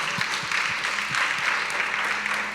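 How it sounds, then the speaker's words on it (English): An audience at a student film festival gives a round of applause, a continuous wash of many hands clapping at an even level throughout. "Give them a round of applause one more time for coming up"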